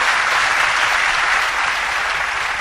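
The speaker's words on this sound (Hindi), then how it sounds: "पहले इसके प्रश्न के लिए एक बार तालियां बजा दीजिए" A lecture audience breaks into applause for a questioner's question, a dense, steady wash of many hands clapping together, loud and continuous with no talk over it.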